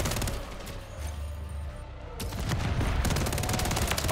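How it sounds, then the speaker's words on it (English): Rapid gunfire from many weapons in a Call of Duty MW3 multiplayer match, continuous overlapping bursts that swell louder toward the end, with no voice over it. "Oh, they're all shooting each other."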